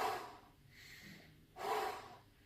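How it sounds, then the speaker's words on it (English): Two forceful breaths, a sharp inhale through the nose and a rushing exhale through the mouth during a breathwork exercise, close and alone with a quiet pause between them. "I do in my nose, out my mouth, 10 complete breaths"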